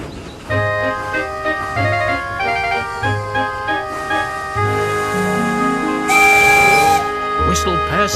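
Toy engines Percy and Emily whistle as yellow engine Molly pulls into a station in a Trainz animation. Bright tonal whistle calls sound over soft music, then a long hissing steam whistle blast near the end.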